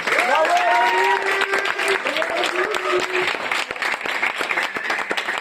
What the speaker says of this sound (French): On peut l'applaudir encore s'il vous plaît.